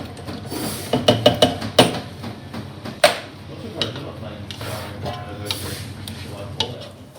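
Canned tomatoes go into a pan of sizzling garlic and olive oil for a spaghetti aglio e olio sauce, with bursts of clattering, scraping and stirring over a steady sizzle, close up.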